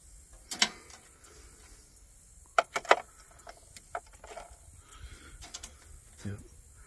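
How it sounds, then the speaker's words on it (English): Ratchet wrench turning a metric socket while working on the wiring of a Massey Ferguson 4707 tractor, heard as a few short clicking bursts with quiet gaps between them, fairly faint and close. "Now the ratchet."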